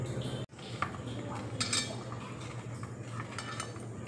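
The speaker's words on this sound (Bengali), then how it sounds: "এবার দেখো আলুর মধ্যে আমি একটু নুন মাখিয়ে দিচ্ছি, কর্নফ্লাওয়ার দেখো মাখিয়ে নিচ্ছি" Potato pieces get mixed with salt and cornflour in a bowl: soft clinks and scrapes of a spoon against the dish, with occasional brighter taps, quiet and close, no talking.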